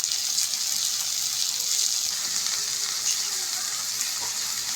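Chopped tomato goes into a hot frying pan during home cooking and gives a steady, loud, hissing sizzle that lasts the whole time, with no break.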